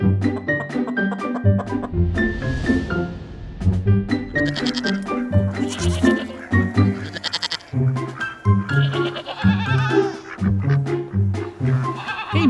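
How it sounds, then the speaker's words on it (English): Goats bleat continuously, several nasal, wavering cries overlapping one another, loud and near, with no pause over the whole stretch. "These are some goats"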